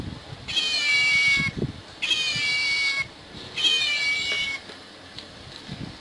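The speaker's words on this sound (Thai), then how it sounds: "อันนี้เป็นแมว" A toy cat plays three loud, drawn-out electronic meows, close up and evenly spaced. Only faint handling noise sits between them.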